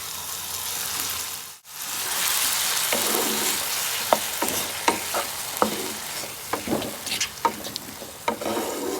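Paste of green chili, ginger, tomato and onion frying with onions for a Bengali rohu fish curry with potatoes: a steady close sizzle, broken by repeated scraping stirs that grow more frequent, with no talking.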